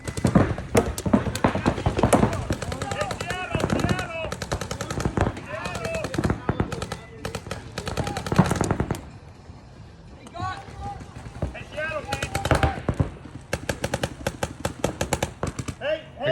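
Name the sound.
paintball markers firing during a paintball game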